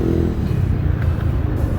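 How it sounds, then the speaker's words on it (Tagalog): Light road traffic rolling around the MOA Globe rotunda at night, a steady low rumble of passing cars with a faint engine rev, no voices over it. "So traffic ngayon dito, light traffic ngayon dito sa may rotonda."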